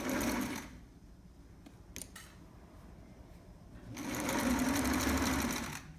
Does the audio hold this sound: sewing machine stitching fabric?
yes